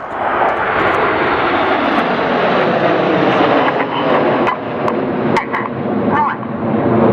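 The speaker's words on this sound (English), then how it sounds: "In from the left now, they pull up for the Typhoon loop." RAF Red Arrows display jets sweep in from the left and pull up into a loop at an air show, a loud, steady, roaring engine rush that swells and shifts slightly as they climb.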